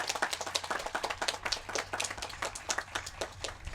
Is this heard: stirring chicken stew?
no